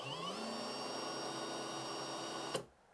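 A Villager VLP 5320 cordless impact driver runs at a steady high whine for about two and a half seconds, loud and close, then cuts off abruptly and leaves quiet room tone.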